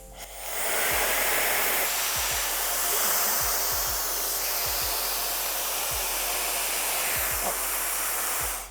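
A TYMO Airhype hair dryer on its highest setting blows with a loud, steady rushing hiss throughout, while soft low thumps sound now and then beneath it.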